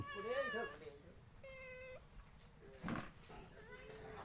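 A cat meows several times up close, drawn-out rising and falling cries heard over steady outdoor background noise, with a brief clatter in between.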